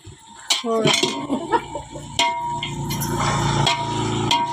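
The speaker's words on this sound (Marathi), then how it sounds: "आता सगळ्या टाकून हलवून घ्यायच्या" Mixed vegetables with hyacinth beans and peas are stirred in a pan for a Bhogi vegetable dish, with loud clanks and scrapes of a utensil against the pan, partly under a voice.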